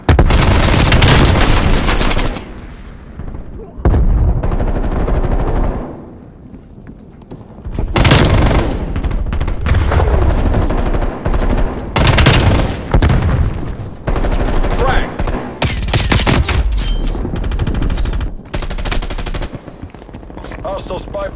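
Loud, dense bursts of automatic gunfire and cannon fire from the Call of Duty: Black Ops Cold War video game, rapid close shots broken by brief lulls and sharp impacts, with faint game voice callouts underneath.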